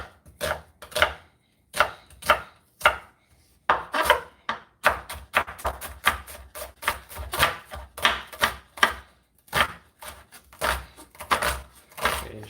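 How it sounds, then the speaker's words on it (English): Knife dicing an onion on a cutting board, quick bursts of crisp chopping taps in irregular runs separated by short pauses, close and alone with no talk. "And then I'm going to be dicing the onion."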